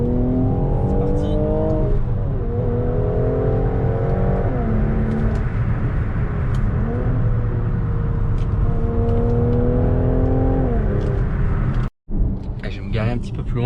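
A Mercedes GLC 43 AMG Bi-Turbo accelerates hard, its engine note climbing through repeated gear changes, loud and steady inside the cabin before a brief dropout near the end.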